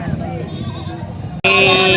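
Goats bleat at a livestock market in Padre Garcia, Batangas, with a loud, close bleat cutting in near the end over a busy, murmuring background.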